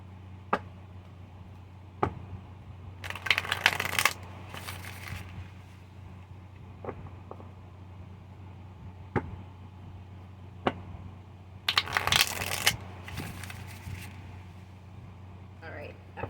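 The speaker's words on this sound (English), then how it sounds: "Just going to shuffle them until they feel right." Two short bursts of tarot cards being shuffled, riffling crisply, between quiet moments with occasional soft taps.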